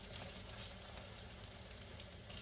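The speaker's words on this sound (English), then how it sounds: "I'm just going to stir it a bit" A potato omelette cooks in a pan, giving a steady, soft sizzle throughout, with one brief clink partway through; no talking.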